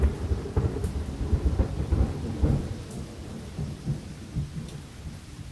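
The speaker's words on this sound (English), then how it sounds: "Thunderstorm modes." Thunderstorm mode on a Current USA aquarium controller plays as a storm soundscape: low rolling thunder rumbles pulse over a steady hiss of rain, with a few sharper crackles, fairly loud throughout with no voices.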